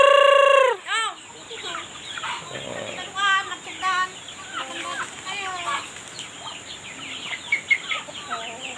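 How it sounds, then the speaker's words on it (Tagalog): Free-range native chickens cluck repeatedly nearby in irregular bursts, including one tethered hen, opening with a loud drawn-out squawk, over a steady background hiss. "Meron lang tayong isang nakataling manok dito guys."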